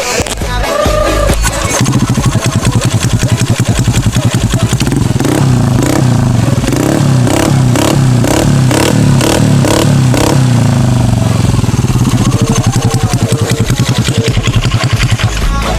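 A custom fibreglass-packed motorcycle exhaust revs up and down close by, its deep throaty rumble rising and falling steadily, loud throughout with a rattly edge.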